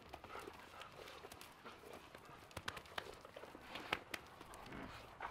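Dogs scrabble and patter on a hard floor nearby in a restoration workshop, with scattered claw clicks and thumps, faint and busy throughout.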